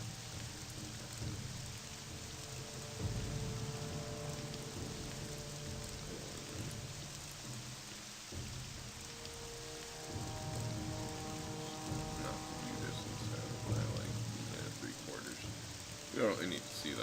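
Steady rain falls in the video game Morrowind running on OpenMW, a soft continuous patter with occasional low rumbles, faint and even throughout with no talk over it.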